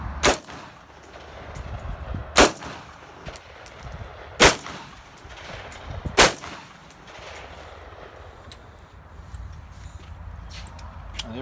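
Colt A2 rifle fired outdoors in a string of sharp, loud shots spaced about a second or two apart, each with a brief ringing tail, followed by quieter handling noises.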